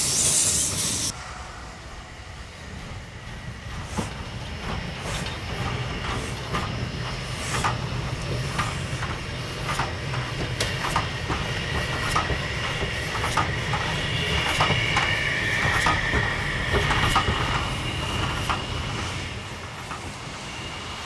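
An Austrian narrow-gauge 032T two-cylinder compound steam locomotive of the Liebstalbahn runs with steady rhythmic exhaust beats over a loud hiss and rolling rail noise, sustained and close for about twenty seconds.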